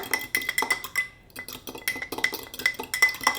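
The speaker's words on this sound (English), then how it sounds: "Now the Earth Balance is melted, so I'm going to stir everything together" A spoon stirs a mixture with melted Earth Balance in a bowl, making rapid, bright clinks and scrapes against the dish in close, uneven bursts, pausing briefly in the middle.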